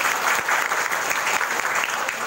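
Audience applause for panelists at a live-streamed class panel discussion: a steady, dense clapping from many hands, fairly loud and even throughout a couple of seconds, without speech.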